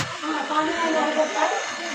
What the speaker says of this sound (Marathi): हे मोटर लावलं इथं